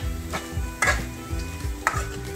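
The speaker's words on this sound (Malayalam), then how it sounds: "ഇളക്കുന്ന ഇളക്കി കൊടുക്കണം" Onions frying in oil for prawn dum biryani, stirred through the masala in a pan: a steady sizzle with repeated scraping strokes of a spoon every second or so, close and fairly loud, no voices.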